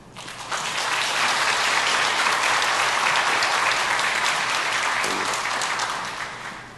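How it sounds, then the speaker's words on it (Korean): A church congregation at Sunday worship applauds to welcome a pastor's family, the clapping swelling in quickly, holding steady and then tapering off at the end. "박수로 환영하겠습니다."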